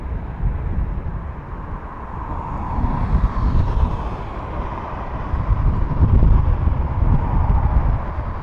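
A Ryanair airliner arriving from Nice rumbles at Dublin Airport, a low, broad engine roar that swells and stays loud across the whole stretch, heard outdoors with some wind buffeting and no talk.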